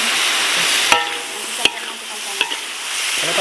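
Tomato goes into a hot pan of sweet and sour shrimp, then a spatula stirs with a few sharp clacks against the pan over a loud, steady sizzle. Close and continuous, with no one talking.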